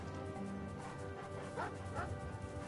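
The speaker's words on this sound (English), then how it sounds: "I think these are dogs." Dogs in the Final Fantasy XVI video game give a few short barks and yips over a constant background wash of game sound.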